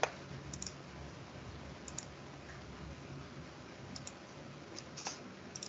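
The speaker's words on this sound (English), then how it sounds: "So zooming it back so you can see as I'm typing in what we captured in our income statement." Computer keyboard typing and clicking during a financial modeling session, faint scattered keystrokes and clicks over a steady background hiss, with no talking.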